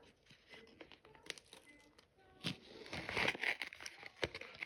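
A plastic packet crinkles and rustles quietly at close range, with irregular crackling handling noises that grow a little louder toward the end.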